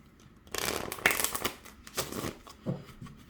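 Crisp riffling of a deck of cards being shuffled up close, several quick flurries of papery flutter and taps with short pauses between.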